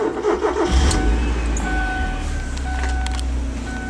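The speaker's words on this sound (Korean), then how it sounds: "엔진 시동 한번 걸어 보겠습니다. 자, 시동 한번 걸어 볼게요." An early 1990s Kia Elan sports car engine cranks and fires, then settles into a steady, fairly loud idle with a low rumble heard up close.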